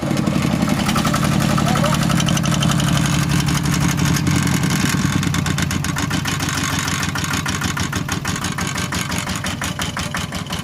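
A second-hand walk-behind tractor engine runs loud and close with a rapid, chugging idle that stays steady throughout, while a person speaks over it.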